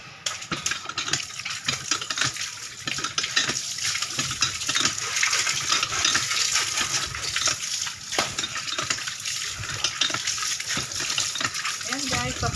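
Water runs steadily from a faucet outdoors in a muddy spot, a continuous splashing gush that stays fairly loud throughout, with a voice speaking faintly at times underneath.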